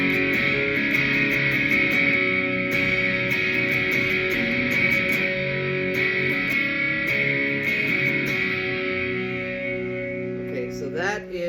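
Epiphone Les Paul Prophecy electric guitar on the neck pickup, played through heavy distortion with sustained, dense chords and rhythmic picking, loud and continuous throughout.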